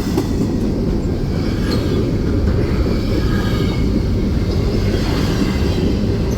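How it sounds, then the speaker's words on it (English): A long intermodal freight train rumbles past close by in Lapeer, a loud continuous roar of wheels and rail noise with no letup. "This should be a long intermodal train."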